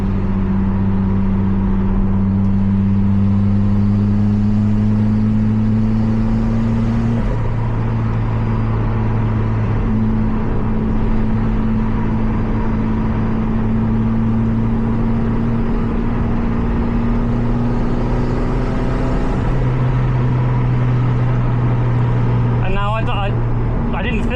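Toyota MR2 Spyder engine holding a steady, close drone with light throttle applied, its pitch stepping slightly up and down over about 24 seconds, with a brief clatter near the end.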